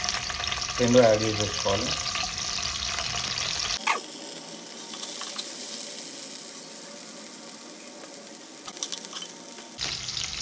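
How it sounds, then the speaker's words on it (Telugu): Chopped onions and green chillies are added to hot oil, giving a steady sizzle and fry that runs under someone speaking, with a brief stirring clatter near the start. "ఆయిల్ వేడైన తర్వాత మనం కట్ చేసి పెట్టుకున్న ఉల్లిపాయలు, పచ్చిమిరపకాయలు"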